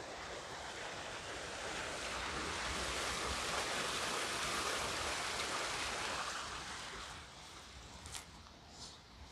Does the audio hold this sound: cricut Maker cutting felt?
no